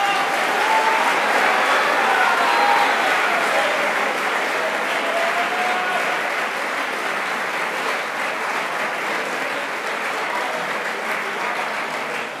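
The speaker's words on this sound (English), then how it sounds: "Please give them a round of applause." Sustained applause from an audience at a 2017 awards convocation, greeting the award recipients, dense steady clapping that stays loud throughout and tapers slightly toward the end.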